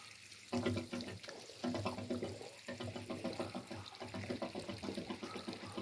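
Water pours and splashes steadily from the spout of a non-electric hand pump, surging in a few strong gushes, close and loud, with no talking.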